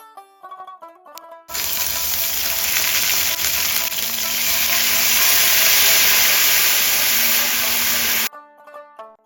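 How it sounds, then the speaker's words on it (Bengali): Chopped onion and ground spice paste hit hot oil seasoned with cumin, bursting into a loud, continuous sizzle that holds steady for several seconds, with brief music before and after. "এখন কেটে রাখা পেঁয়াজ কুচি দিয়ে হালকা নেড়েচেড়ে বেটে রাখা মশলা দিয়ে দেব।"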